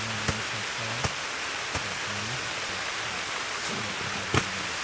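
Steady rain patters on a tent during a foggy Alaska mountain goat hunt, a dense even hiss with a few sharper drop ticks, close and alone with no talk.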